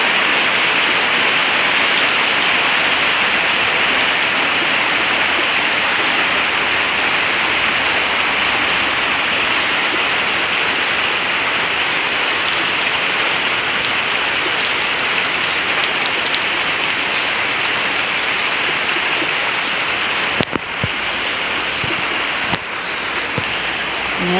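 Heavy summer rain pours down steadily in a dense, loud hiss on hot, dry ground, continuous throughout with a couple of brief knocks near the end.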